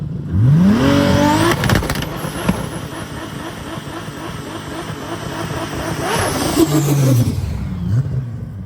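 Rat rod Toyota Supra engine runs loud and close, revving up in rising sweeps at the start, settling into a steady rough idle-like roar, then blipping the throttle again near the end.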